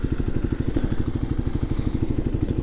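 Kawasaki KLX300 dirt bike engine while riding with a stock, quiet exhaust, a steady loud low pulsing thrum with rapid even firing beats that continue throughout, close up and alone.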